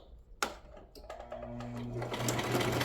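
A sewing machine stitches through scrap fabric for a small lip-balm holder, the motor humming up into a steady, continuous whir after a sharp click, close and clear with no talk.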